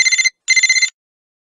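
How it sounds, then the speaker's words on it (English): A telephone rings in a children's cartoon: two short bursts of bright trilling bell tones separated by a brief gap, loud and clean against silence. "A phone sounds like this."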